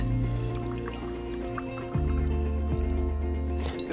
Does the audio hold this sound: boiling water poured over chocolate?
yes